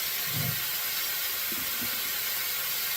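Steam hisses steadily and loudly while pork cooks for noodle soup, a constant broad rush with a few soft low thumps in the first half.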